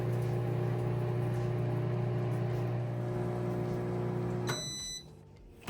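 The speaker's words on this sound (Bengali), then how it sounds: "এবার বাটিটিকে আমি আবারও মাইক্রোওয়েভ ওভেনে দিয়ে দিচ্ছি" A microwave oven hums steadily with a bowl of prawns inside, a constant low drone that cuts off near the end, followed by a few high completion beeps.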